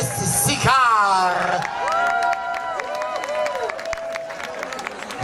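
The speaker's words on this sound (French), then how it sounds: "Une bonne d'applaudissements pour notre Elvis Sicard" An audience at an Elvis tribute contest cheers and claps for a contestant, whoops and applause rising under a loud announcer's voice that keeps speaking over the crowd.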